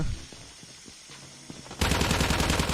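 Sustained machine gun fire in Call of Duty Mobile, an MG rattling off a loud, fast continuous burst that erupts suddenly after a quieter stretch of scattered faint shots and footsteps.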